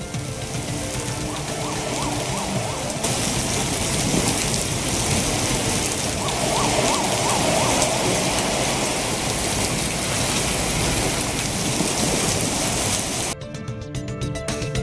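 Steady moderate rain falling over Chennai, a dense continuous hiss of drops on surfaces that stays even throughout, with a faint rumble beneath.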